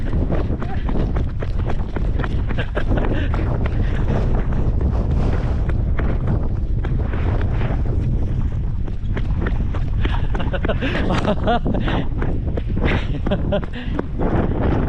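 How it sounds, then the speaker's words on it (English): Heavy storm wind buffets the microphone in a steady, roaring rush, with people talking beneath it, outdoors at an off-grid homestead. "it's crazy windy"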